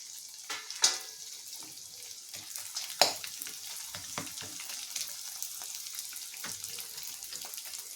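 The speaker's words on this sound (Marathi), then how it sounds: "थोडा थोडा करून डिंक तळून घ्यायचं आहे छान" Edible gum (dink) frying in ghee a little at a time, a quiet, continuous sizzle punctuated by two sharp clacks of a utensil and light crackles from the puffing pieces.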